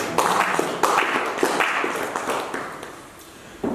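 Congregation clapping and cheering during a church revival service, a dense roomful of hand claps swelling in bursts and then thinning out, fairly loud and close, with no one speaking.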